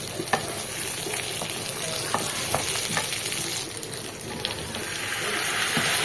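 Tomatoes frying lightly in a pan for a meatball curry paste, a steady close sizzle with faint crackles and occasional stirring clicks, no speech.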